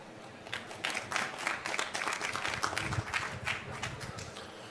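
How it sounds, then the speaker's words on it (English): An audience at a conference session applauds the CEO of Hitachi Energy with a steady, fairly faint wash of clapping lasting several seconds, heard from a distance without any voices. "give him a warm round of applause"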